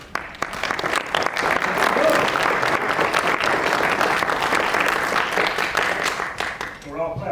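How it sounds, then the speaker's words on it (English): A ceremony audience at a Navy retirement gives sustained, loud applause for an introduced commander, a thick crowd clap that holds steady before fading as a voice begins to speak at the end. "We're all clapping for you, Steve."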